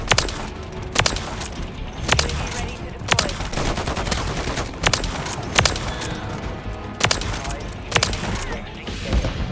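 Repeated sharp lever action rifle shots in Call of Duty MW3 gameplay, loud cracks spaced about a second apart over continuous background game noise and talk.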